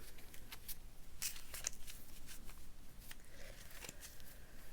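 Close, quiet crisp flicks and papery snaps of ASMR trigger cards being shuffled, a rapid irregular series of soft ticks and riffles against a hushed background, with no speech.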